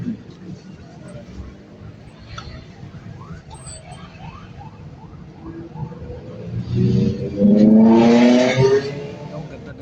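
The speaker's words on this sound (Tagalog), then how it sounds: "Ang ganda ng big bike." A big motorbike passes on C5 Road in the Katipunan area of Manila, heard from inside a bus. A low traffic rumble swells into a loud engine growl with rising pitch, then fades, while people talk nearby.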